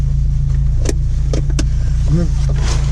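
A Peugeot 205 GTI with its original stock exhaust idles steadily close by, a low even engine rumble under brief French conversation.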